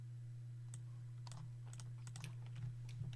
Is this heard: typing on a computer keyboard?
yes